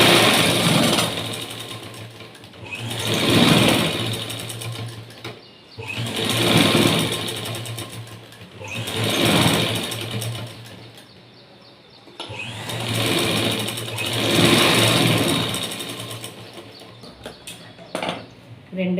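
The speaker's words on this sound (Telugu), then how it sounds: "మొత్తం కలిపి ఒకసారి రెండో స్టిచ్ వేసుకుందాము." A sewing machine stitching a straight-cut blouse runs in four long rhythmic bursts with short pauses between, close and fairly loud, with a voice speaking faintly at times.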